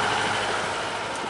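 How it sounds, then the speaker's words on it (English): A boat engine runs flat out at full throttle on a sailing outing, a steady, loud mechanical roar that holds unbroken from start to finish. "I'm going to go full speed for a second just for the engine exercise"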